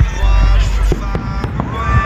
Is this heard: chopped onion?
no